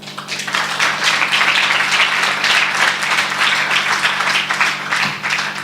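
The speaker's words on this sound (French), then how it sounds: "On peut les applaudir." Attendees at a round-table conference at the Nice Côte d'Azur chamber of commerce applaud three participants, a fairly close, full burst of clapping with a steady low hum underneath that thins out near the end.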